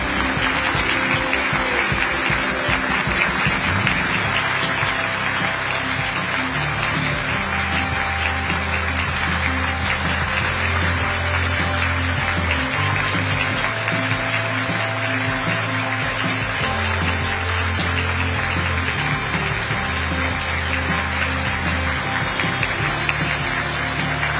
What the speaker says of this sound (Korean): 여러분 계속해서 큰 박수로 환송해 주시기 바랍니다